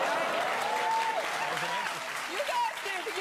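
A studio audience on a daytime talk show claps steadily throughout, with a voice talking over the applause.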